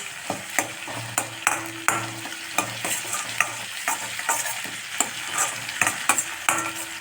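A rice mixture with drumstick leaves is sautéed and stirred in a pan, giving steady sizzling with repeated sharp scrapes and clinks of the spoon against the metal, close and fairly loud, no voices.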